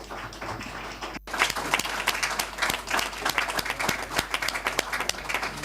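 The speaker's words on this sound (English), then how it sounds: "we will welcome them with an applause." Delegates at a general assembly break into sustained applause, dense clapping filling the room steadily for several seconds after a short cut near the start.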